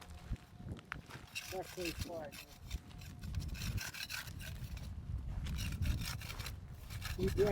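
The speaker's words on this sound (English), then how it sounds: "We're sanding it down" Steady rasping and rubbing of sandpaper on a hard surface, continuous and close, with faint voices in the background.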